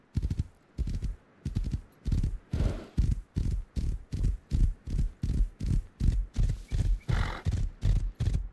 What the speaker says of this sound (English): My horse just ran away.